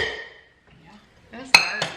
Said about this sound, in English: We're gonna need a pot.